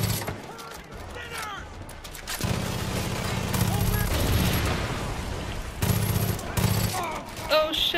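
A mounted gun in Far Cry 5 fires sustained bursts of rapid automatic fire, loud and continuous through much of the stretch, with a voice talking over it.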